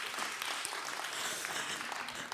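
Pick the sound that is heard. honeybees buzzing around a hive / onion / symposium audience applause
symposium audience applause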